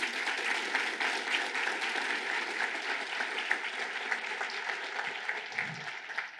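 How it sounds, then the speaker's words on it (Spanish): A church congregation claps loudly and steadily for several seconds during a sermon, with the sound tapering off near the end. "Dale un fuerte aplauso a Jesús."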